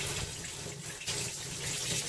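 Items dropped into dishwater in a kitchen sink, producing a steady close-up wash of splashing and running water with a brief slosh partway through, no voices.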